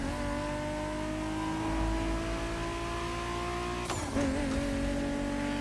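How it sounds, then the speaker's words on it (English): In the racing video game The Crew Motorfest, a Ryujin car's engine holds a steady, loud drone at high revs, then drops sharply near the end into a lower idle, with no speech. "the Ryujin's got a nice motor to it"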